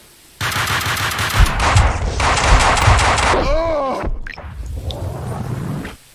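Gunfire in Max Payne 2: dense rapid bursts of close, loud shots hammering almost continuously, then a brief lull before more shooting resumes, with only a little talk in the background.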